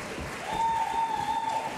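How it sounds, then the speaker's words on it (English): Audience applause at a Saturday evening chorus show, a steady wash of clapping with a faint sustained tone running through the middle. "you're going to have to applaud for quite a while"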